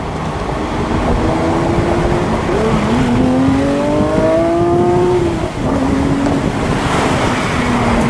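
A blue 2019 Porsche 911 Speedster accelerating hard through a tunnel, with the engine note climbing through rising gear pulls over loud wind and road roar, heard from inside the open car.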